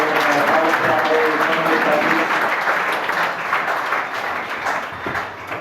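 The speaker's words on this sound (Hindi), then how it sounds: "एक बार दूर से ताली बजा के" An audience at a yoga college event claps in welcome, a loud, sustained round of applause that tapers slightly toward the end, with crowd voices underneath.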